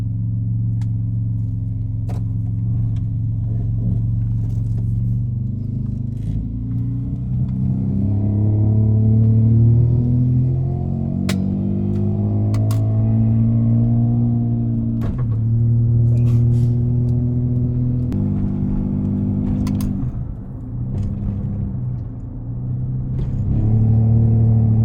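A 2001 automatic car drives with a loud, close engine rumble, revs climbing and dropping through several shift-like steps, with light clatter and a brief dip before the drone picks back up.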